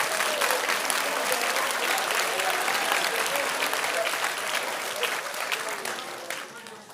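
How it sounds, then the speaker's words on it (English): Sustained applause from a school honors assembly audience, a loud, dense roll of clapping with faint crowd murmur beneath, gradually tapering off near the close. "Let's give them one more round of applause."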